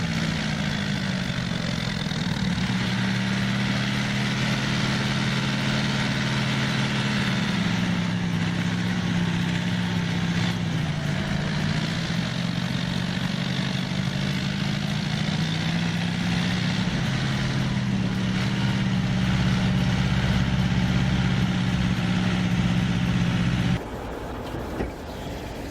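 A tractor engine runs steadily as the machine pushes through snow, a low droning hum that rises and falls slightly in pitch across the stretch, then cuts to a quieter tone near the end, with no voices.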